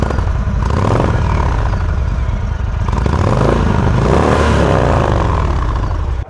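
Indian Chief Dark Horse motorcycle running close by, a loud, continuous V-twin engine and exhaust rumble with rhythmic throbbing pulses and slight rises in revs, steady until it cuts off at the very end.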